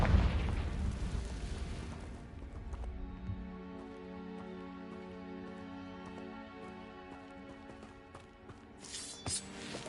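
Confringo blasting spell in Hogwarts Legacy: a loud booming burst opens, then a sustained rumbling, ringing tail with layered tones lingers before a brief crackle near the end; no voices.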